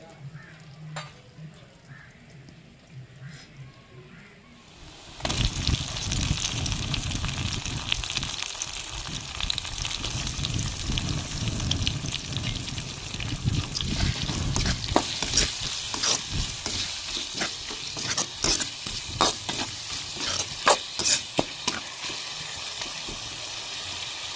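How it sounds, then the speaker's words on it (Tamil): Onion, tomato and ginger paste sauté in a pan for tuna fish gravy, a loud continuous frying hiss that starts abruptly after a quieter opening, with repeated spatula scrapes and clinks throughout. "நமக்கு வெங்காயம் தக்காளி இஞ்சி பேஸ்ட்லாம் வதங்கி வந்துருச்சு"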